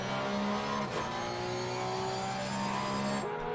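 A Porsche Cup race car in Assetto Corsa Competizione drones steadily through the final esses at Suzuka under light, even throttle. The engine note stays loud and close, with the pitch shifting gently as it goes.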